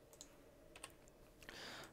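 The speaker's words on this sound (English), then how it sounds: "you can just hit insert on your keyboard" A computer keyboard in use during a Krita drawing tutorial: a few faint, sharp key clicks spread apart, then a brief burst of quicker typing, quiet and alone with no talk.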